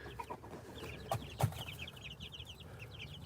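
Chicks and hens cluck and peep steadily in a small flock, with a couple of soft thumps of movement close by.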